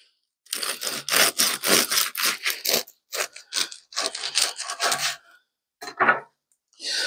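A knife saws through a slice of homemade bread made with saffron and Manchego cheese. The close, rasping strokes come in a quick series with short pauses between them.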